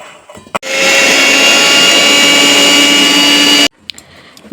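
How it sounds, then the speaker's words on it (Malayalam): A mixer grinder grinding coconut chutney whirs loudly and steadily for about three seconds, starting and stopping abruptly, with quiet clatter before and after. "അപ്പോൾ ഇത് നമുക്ക് നല്ല മിക്സിയിലിട്ട് നന്നായിട്ടൊന്ന് അരച്ചെടുക്കണം"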